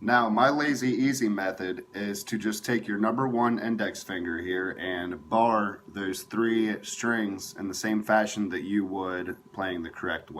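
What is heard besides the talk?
No everyday noise stands out behind the speech.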